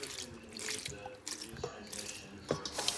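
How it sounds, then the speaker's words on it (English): Liquid mixture poured over a pound of raisin bread, a soft, irregular splashing trickle with small drips and clinks, fairly close and quiet. "I'm going to pour a little bit of that mixture off in there."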